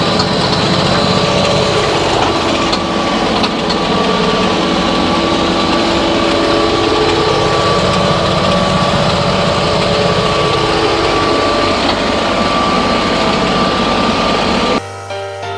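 A tractor engine drones steadily at close range, its pitch rising and falling gently as it pulls a weeder through a sunflower field, with no talking.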